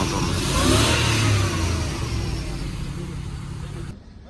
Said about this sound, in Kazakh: Toyota моторы